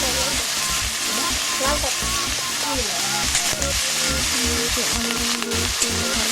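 Cut potatoes drop into a pan of hot fried onions and sizzle loudly and continuously, a dense crackling hiss with bubbling pops, while a voice talks over it.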